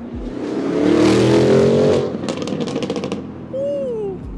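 A 1001-hp MTM-tuned Audi RSQ8 launches with launch control, its engine roaring loud and close for about two seconds, then crackling exhaust pops follow as the sound drops away, with a faint whistle at the end.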